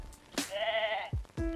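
A sheep in the Cat Detective Albert Wilde video game gives a single clear, wavering bleat, close and loud, surrounded by short abrupt game sound effects and no speech.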